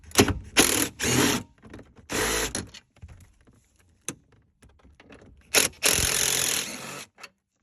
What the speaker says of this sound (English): Then we'll just unscrew the 8mm bolts.